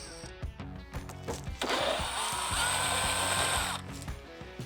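A power driver backs out screws from the air deflectors of a 2022 Harley-Davidson Low Rider ST, a steady close whirring lasting about two seconds over a faint rhythmic background.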